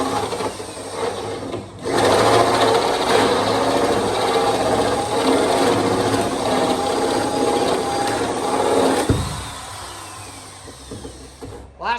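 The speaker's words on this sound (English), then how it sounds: "I think that's the absolute last hole we have to drill" A power drill whirs steadily at close range for several seconds while drilling holes, then stops abruptly with a clunk, leaving quieter background.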